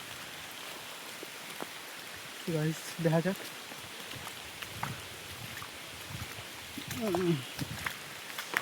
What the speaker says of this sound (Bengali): যে হারে বৃষ্টি হচ্ছে